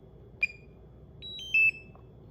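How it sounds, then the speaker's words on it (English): Short electronic alarm beeps from a new DJI Mini 2 drone controller, a single sharp chirp followed by a longer pair of high tones, moderately loud over a steady low background hum. "Beep, beep, beep."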